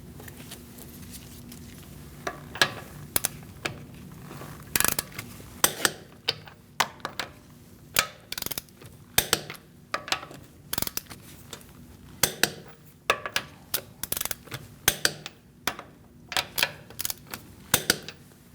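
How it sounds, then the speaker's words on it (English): A torque wrench tightens the wheel lug bolts on a 2008-2014 Mercedes-Benz C300 to 96 foot-pounds in a star pattern, giving sharp ratcheting clicks in irregular bursts, close and fairly loud, with no talking. "We're going to torque our wheel to 96 foot-pounds."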